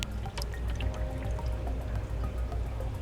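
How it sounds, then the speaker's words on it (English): Water trickling and dripping as an aquarium canister filter refills after cleaning, with its hoses reattached and valve closed; steady low gurgling flow with scattered small drips throughout, fairly quiet and without voices. "you may hear that it's starting to fill with water"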